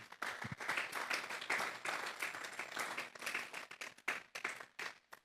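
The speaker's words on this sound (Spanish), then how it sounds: "Vamos a dar un fuerte aplauso pues al Señor." A church congregation at a Sunday service gives applause to the Lord, a quiet, uneven patter of many hands lasting several seconds, swelling and thinning before a few last scattered claps.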